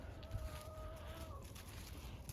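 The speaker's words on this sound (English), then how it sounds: "let me see if I can fool a chicken here" Chickens on a farm cluck and call softly in a short burst, a few rising vocal notes over low background noise.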